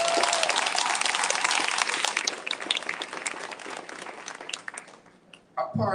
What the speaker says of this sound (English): Can we give Malachi a big round of applause, please?